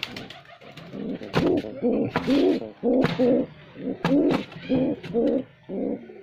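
Pigeons and pigeon chicks on a rooftop farm coo in repeated low, throaty bursts, close and fairly loud, with faint sharper sounds between the calls.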